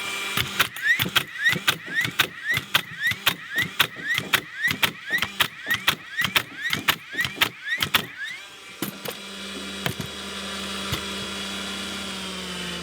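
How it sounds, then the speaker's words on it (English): A nail gun drives 3 1/4 inch framing nails in a rapid, evenly spaced string of about fifteen sharp, loud bangs, followed by a quieter stretch of mechanical hum. "I'm shooting a 3 1/4 inch nail, by the way."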